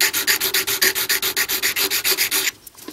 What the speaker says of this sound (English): I'm using a 100-180 grit file to shape the nails.